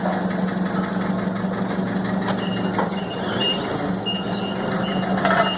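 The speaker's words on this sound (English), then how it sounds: "a non-air tired forklift, so it doesn't do real well outside" A forklift on hard, non-pneumatic tires runs steadily at idle, its low engine drone continuous and fairly close, with a few faint clanks and squeaks over it.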